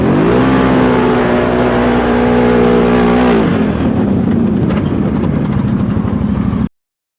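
A 2025 CFMoto Cforce 1000 and 800 ATV accelerating in a race: a loud, close engine revs with a rising, buzzing drone, then shifts into a rougher, steady roar before cutting off abruptly, with no talk.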